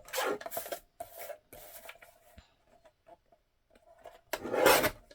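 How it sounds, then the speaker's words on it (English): Scissors or a paper trimmer cut the edges of a steampunk-style paper craft tag in close, raspy strokes: a longer cut, two shorter ones, a pause, then a final firm cut, with no talking. "We're going to trim off this little bit on each side."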